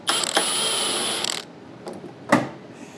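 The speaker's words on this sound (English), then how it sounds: "Now we're gonna take a T40 Torx and remove this top bolt from the hood spring." A T40 Torx wrench removes the top hood spring bolt on a 2014-2018 Silverado or Sierra, with a close ratcheting clicking burst followed by a few sparse metallic clicks and taps, no talk.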